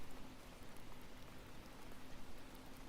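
Steady rain with dense patter of raindrops on a surface, continuous and even, played softly as ASMR background with a faint low hum beneath and no speech.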